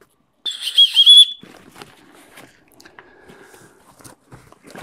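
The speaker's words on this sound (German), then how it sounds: "Pfeife für den Notfall." The small emergency whistle built into the chest strap of a Mystery Ranch Tower 47 backpack gives one short, shrill, close blast, followed by soft handling and rustling noises.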